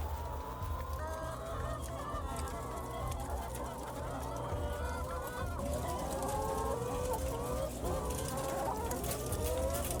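Many hens cluck and chatter continuously inside a crowded poultry farm, a dense chorus of overlapping calls with an occasional rooster crow, moderately near and steady throughout.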